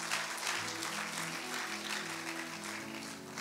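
A church congregation claps in praise during a French-language sermon, a steady wash of applause filling the room with a low sustained tone beneath it.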